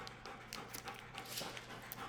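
Dogs panting close by in a steady rhythm over a low constant hum, with soft whimpering; no clear barks stand out in the short stretch.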